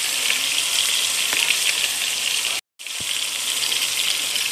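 Loose ground beef sizzles steadily in a pan, a dense, close frying hiss with faint pops and one brief dropout near the middle.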